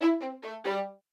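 A dry R&B beat sample with no effects: four quick, clean synth notes stepping downward, each cut off sharply and fading fast with no reverb tail. Close and clear, with no voices.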